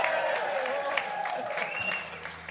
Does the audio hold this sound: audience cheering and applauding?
yes